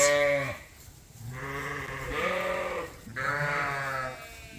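A Suffolk sheep ewe bleating, three long wavering bleats in a row, loud and close, with no talking over them.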